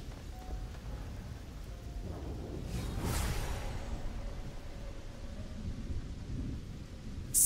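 Thunder booms mid-clip after a lightning strike in the Starfield video game, a broad rolling rumble that swells and fades over a steady wash of rain, with no talking.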